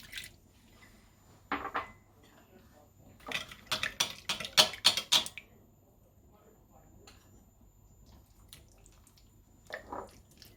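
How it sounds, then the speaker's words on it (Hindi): Water poured into a spiced chicken marinade in a home kitchen: short splashing, clinking bursts cluster in the middle, with a few softer ones before and after, over a quiet background. "थोड़ा सा पानी डालूंगी।"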